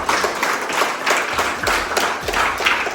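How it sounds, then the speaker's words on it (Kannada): Audience applause at a gathering with children from a care home: dense, steady clapping from many hands that fills the whole moment at an even loudness, with no voices standing out. "ಹೊಡಿ ಚಪ್ಪಾಳೆ, ಚೆನ್ನಾಗಿ ಮಾತಾಡಿದ್ದಾರೆ"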